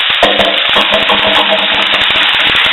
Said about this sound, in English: that nice sizzle